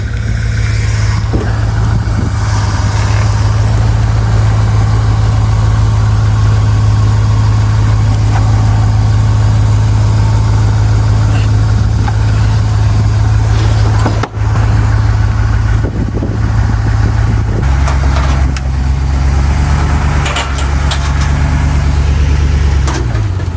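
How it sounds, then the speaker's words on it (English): Truck engine running steadily close by at a low rumble while nudging a Toyota Supra up onto a trailer, the pitch stepping up briefly near the end as it pushes harder. "We're gonna use the truck to push it up the rest of the way."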